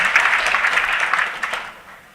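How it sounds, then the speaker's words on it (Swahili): An audience at a political gathering in Bomet applauds the Deputy President, a burst of many hands clapping that swells briefly and then tapers off. "Makofi kwa our Deputy President."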